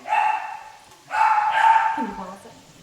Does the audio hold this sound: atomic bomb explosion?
no